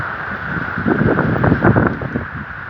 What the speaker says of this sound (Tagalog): Naulan talaga. Nakakatakot ang hangin.